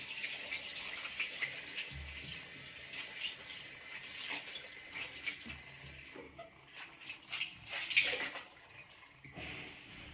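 Water runs from a tap while a face is rinsed at a sink, a steady close splashing wash with small irregular spatters during an evening skincare routine.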